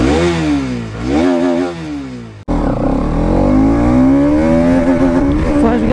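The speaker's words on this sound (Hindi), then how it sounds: "बाइक जो है वो निकल रही है, और ये रही ऑल न्यू NS 200" A 2024 Bajaj Pulsar NS200 motorcycle engine revs and pulls away at a showroom, loud and close, rising through the gears with a brief cut before accelerating again.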